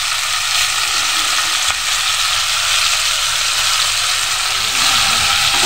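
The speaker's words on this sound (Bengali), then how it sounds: "এখানে হালকা করে ভাজবো" Onions fry lightly in a pan, giving a steady, close, continuous sizzle that holds for several seconds with no talking.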